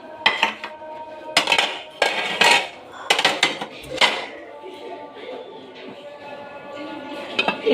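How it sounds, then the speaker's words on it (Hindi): Dishes, pots and cutlery are dropped into a kitchen sink in loud clattering bursts with metallic clinks, separated by short pauses, over a low background hum. "ये सारे बर्तन सिंक में डालेंगे"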